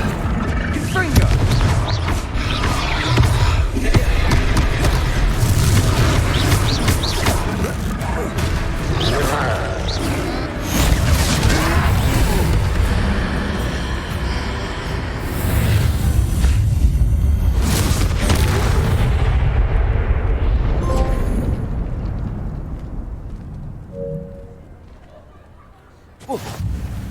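Repeated heavy booming blasts and crashing impacts from Confringo fire spells in the Hogwarts Legacy game during a troll fight, loud and dense for most of the stretch before thinning out near the end.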